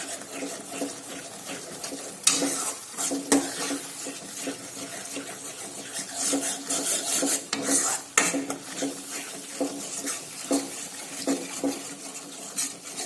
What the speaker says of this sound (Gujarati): આ રીતે આપણે દહીં લઈ લઈશું અંદર, બધું બરાબર મિક્સ કરી લઈશું